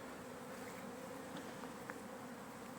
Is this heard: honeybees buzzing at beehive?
yes